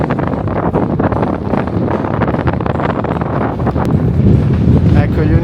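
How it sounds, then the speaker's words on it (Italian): Strong desert headwind near 60 km/h buffets the microphone while cycling, a loud continuous roar with gusty rumbling surges that intensify toward the end. "ho dovuto affrontare un vento contrario che sfiorava quasi 60 km/h"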